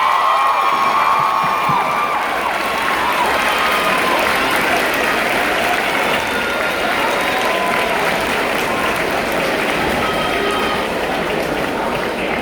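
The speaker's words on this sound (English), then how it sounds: "Let's give a round of applause to this year's Schroeder High School Army Reserve National Athlete Scholar, Mrs. Tiara Ward." A crowd applauds steadily at a high school senior recognition ceremony honoring an athlete scholar, dense continuous clapping with some cheering mixed in, holding at an even level throughout.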